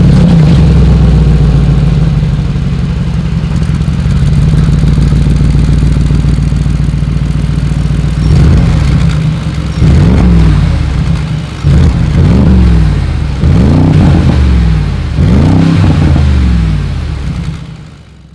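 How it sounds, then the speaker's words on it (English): A Mercedes G63 AMG V8 with side-pipe exhaust idles with a deep, loud, heavy rumble, then revs repeatedly in short throaty bursts before settling and fading. "As always, here is that exhaust clip."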